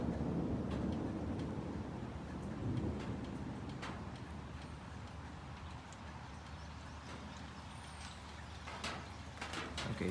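Rain falling during a tornado storm in Newburgh, Indiana, with low rolling thunder rumbling early on and a steady wash of rain continuing throughout, heard outdoors at moderate distance.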